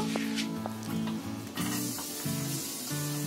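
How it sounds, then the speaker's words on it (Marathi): Garlic frying in hot oil for a vada pav filling, a loud close sizzle and hiss with stirring scrapes, while someone talks over it. "लसूण चांगली फ्राय करून घ्यायची।"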